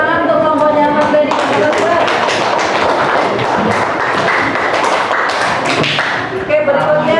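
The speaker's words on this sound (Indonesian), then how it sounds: "Tepuk tangan untuk kelompoknya Mas Teddy." A classroom group applauds a presenting team, with many hands clapping loudly and continuously under overlapping voices and chatter.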